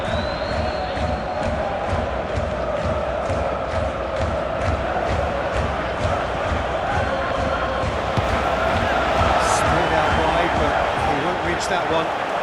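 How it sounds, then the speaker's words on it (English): A football stadium crowd in the video game PES 21 chants and roars in a steady rhythmic swell throughout, with a commentator talking over it. "The crowd are calling for this to be put to bed."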